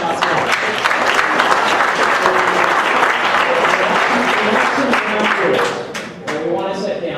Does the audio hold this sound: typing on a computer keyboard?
no